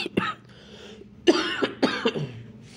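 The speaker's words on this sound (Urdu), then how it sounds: "تھوڑی سی کھانسی ہے اس کے لیے معذرت" Several sharp, close coughs in quick bursts, separated by brief pauses and a bit of quiet breathing.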